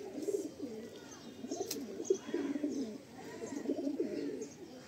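Fulsira Madrasi pigeons coo in a steady run of low, throaty murmurs and rolling calls, close by and continuous, with faint background noise and no clear talk.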